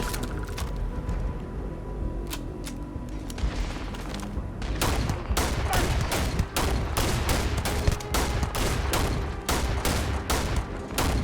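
Rapid, loud weapon fire in the video game Starfield, set on Mars: dense bursts of gunshots hammer almost continuously and grow heavier partway through, with no voices over the shooting.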